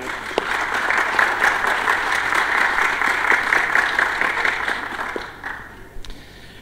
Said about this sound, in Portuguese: Um aplauso para todos eles.